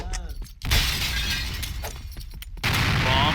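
A loud, sudden blast with shattering debris bursts out, followed by a second heavy crash, amid a noisy game-like soundscape.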